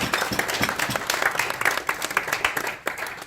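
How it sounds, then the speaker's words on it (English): An audience at a talk on cruising from Cuba to Grenada bursts into dense, sustained applause, loud and close, thinning slightly toward the end. "Let's give them another big round of applause."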